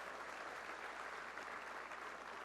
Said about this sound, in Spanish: Le aplaudimos a nuestro Dios